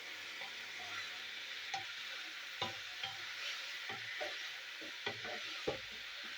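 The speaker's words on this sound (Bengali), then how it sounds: "তো নেড়ে দেবো, নাড়াচাড়া করে নেব।" Bitter gourd fries in a pan with a soft, steady sizzle while a utensil stirs it, making faint intermittent scrapes and clinks against the metal at a slow, uneven pace.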